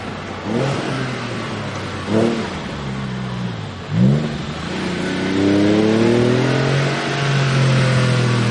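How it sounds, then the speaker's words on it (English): Porsche 996 Carrera with Fabspeed Maxflo mufflers: several short throttle blips with sharp downshifts, then a longer rising acceleration pull, loud and close, the exhaust sounding throaty throughout. "Acceleration, run, and downshifting."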